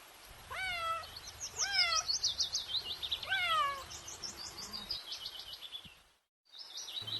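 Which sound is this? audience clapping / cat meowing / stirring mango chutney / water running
cat meowing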